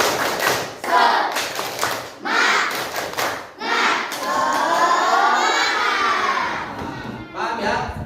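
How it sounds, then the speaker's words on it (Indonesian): A classroom group performs a 'tepuk semangat' spirit clap routine, loud rhythmic bursts of clapping in patterned sets alternating with short pauses and voices. "mari kita tepuk semangat bersama-sama. 1, 2, 3, tepuk semangat."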